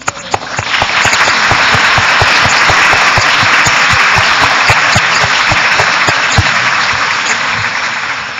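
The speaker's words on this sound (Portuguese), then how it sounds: "Eu queria que vocês batessem umas palmas para essa pessoa." An audience in a lecture hall breaks into loud, sustained applause, many hands clapping densely together for several seconds before slowly tapering off.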